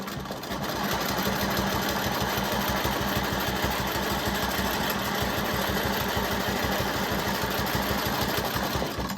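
A sewing machine quilting a loop runs continuously for several seconds with a fast, even mechanical stitching rhythm and a steady hum, close and loud with no talking.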